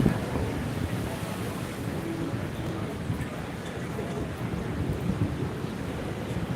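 Cold wind gusting along the Blackpool seafront, a steady broadband rush and buffeting against the microphone, with a faint wash of surf beneath and no clear talk.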